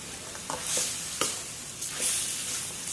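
Pork stir-fried in a hot pan gives a steady, moderately loud sizzle, broken by occasional scraping and tossing strokes of the spatula. No voices are heard.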